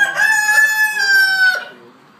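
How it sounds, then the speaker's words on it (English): A rooster kept on a farm where peacocks are also kept crows once, close and clear, in a single drawn-out cock-a-doodle-doo of about a second and a half that then cuts off. "There is a rooster, like, right there."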